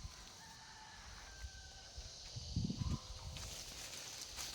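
Chickens call in a faint outdoor farmyard, with soft clucks and a brief crow-like call rising over quiet ambient noise, fairly distant and low in level, with no talking.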